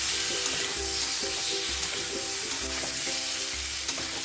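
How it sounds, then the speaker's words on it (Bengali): Potatoes with turmeric frying in a pan as they are stirred, a continuous sizzle with repeated scraping strokes of the spatula in a steady rhythm. "হলুদ গুঁড়ো দিয়ে দিলাম দিয়ে নাড়াচাড়া করে দেবো ভালো করে"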